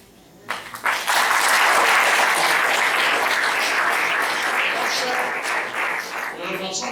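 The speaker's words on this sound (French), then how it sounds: "je voudrais que nous puissions encore acclamer cette mémé" An audience at a speech event applauds Maman Louba, a loud sustained ovation of many hands that rises quickly after a brief pause and continues steadily, tapering slightly near the end.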